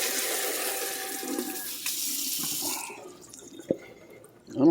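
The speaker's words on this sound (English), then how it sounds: "So I'm just trying to rinse this out real good." Tap water runs into a container as it is rinsed, a close, steady splashing gush for about three seconds. Then the flow stops and a few drips and small clatters follow.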